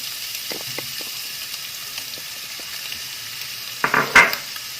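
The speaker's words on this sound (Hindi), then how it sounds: "अब इसी घी में हम ये प्याज डालेंगे।" Chopped onion drops into hot ghee in a pan, giving a faint, steady sizzle that swells into a brief, louder hissing burst near the end.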